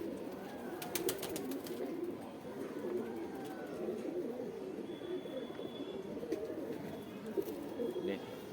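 Pigeons keep up a continuous low cooing close by, overlapping throaty calls forming a steady bed of sound, with occasional clicks and scuffles mixed in.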